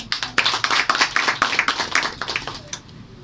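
A church congregation claps together in rhythmic, fairly loud, close bursts of palms at a steady pace for several seconds, then trails off near the end.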